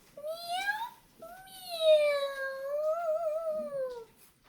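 A person mimics a cat's meows in a high, sliding voice, giving two drawn-out meows close to the mic and a quieter third at the end, with no other sound around them.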